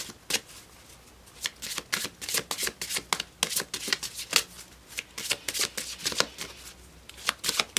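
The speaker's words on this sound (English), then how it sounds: "I'm going to go ahead and shuffle it for you" A tarot card deck is shuffled by hand in quick, crisp riffling bursts, close and fairly quiet, repeating steadily over several seconds with no talking.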